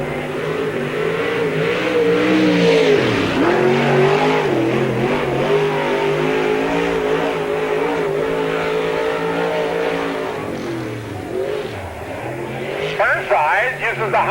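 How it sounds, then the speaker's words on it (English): A race car in the Rinkelman Trucking 3 car at Spoon River Speedway accelerates through a qualifying lap, its engine roaring loud and continuous with rising and falling pitch, while an announcer talks over it throughout. "Tommy Burnside out of Kansas, Illinois in the Rinkelman Trucking 3 car"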